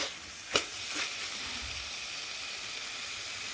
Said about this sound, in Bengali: তো দেখো আমি এর মধ্যে জল অ্যাড করছি